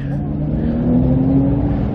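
Mitsubishi Lancer Evolution 9 MR engine revving steadily nearby, a loud continuous drone with a slight rise in pitch midway, with people talking faintly underneath.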